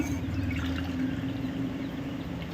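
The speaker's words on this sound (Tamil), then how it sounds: "இதில் ஒரு வந்து மூணு டம்ளர் நம்ம ஊற்றிக்கலாம்" A tumbler of water is poured over rice and dal for pongal, a steady close splash and trickle lasting a few seconds with no talk.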